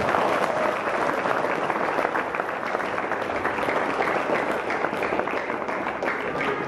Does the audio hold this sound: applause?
yes